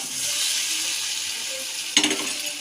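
Fried potatoes go into a hot pan with turmeric, making a steady close sizzle with a short sharp burst of crackle near the end, and no talking.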